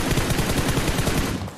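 Automatic gunfire rattles in a mecha-mode shooter game. Close, loud shots come in a fast, even stream with no pause for over a second.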